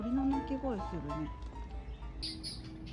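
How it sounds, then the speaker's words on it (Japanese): Birds chirp in short bursts during a home dim sum meal, bright calls coming in toward the end over steady people's talk and room noise. "あれ、鳥の鳴き声するね。"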